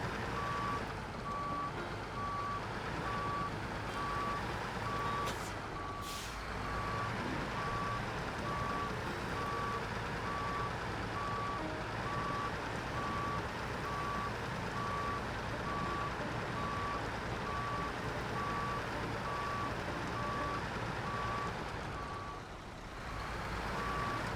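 Steady reversing beeps from a truck in the SnowRunner game, backing up over rough terrain, sound at an even pulse over a constant engine rumble, with a brief dip in noise near the end.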